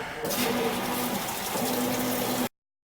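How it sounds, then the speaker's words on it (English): Domestic washing machine drawing in water, a steady rushing fill with a low hum, constant and close for about two and a half seconds before cutting off abruptly. "Apologize for the washing machine."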